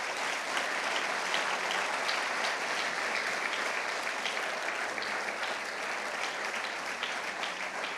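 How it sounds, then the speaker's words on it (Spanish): A church congregation claps in sustained, dense applause that stays even and fairly loud throughout, with no clear voices standing out above it. "Dale un fuerte aplauso al Señor."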